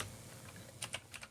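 Typing on a computer keyboard, a quick cluster of soft clicking keystrokes close up and quiet, with a few sharper taps near the end and no voices.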